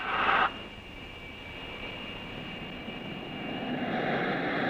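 An RAF display team aircraft, from the 1950s–60s era, rolls for takeoff with a steady engine drone. A brief louder burst opens the clip, then a sustained whine builds gradually.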